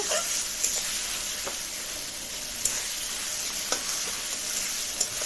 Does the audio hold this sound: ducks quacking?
no